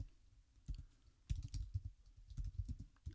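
Keys clatter on a computer keyboard in an irregular run of soft, close clicks, with a few louder bursts as words are typed into an AI writing app.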